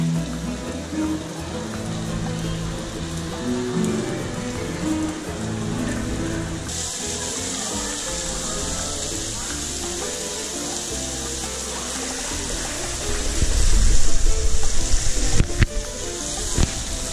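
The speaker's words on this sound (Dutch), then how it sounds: "Het komt met bakken uit de hemel vandaan." Heavy rain pours down outdoors in a steady, dense wash of patter and splashing that swells louder near the end, with no talk heard.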